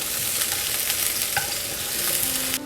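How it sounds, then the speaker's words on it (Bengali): Chopped garlic and onion fry in a pan for dal with a steady, close sizzle and faint occasional stirring, and no voices. "রসুন কুচি দিয়ে দিলাম একটু পেঁয়াজ কুচি দিয়ে দিলাম এটা একটু ব্রাউন হয়ে গেলে"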